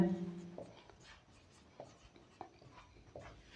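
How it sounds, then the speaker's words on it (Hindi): Chalk or marker writing on a classroom board during a maths lesson, with faint scratchy strokes and taps at irregular intervals, soft and close, following a brief moment of speech. "सबसे पहले यहाँ लिखते हैं हम लोग"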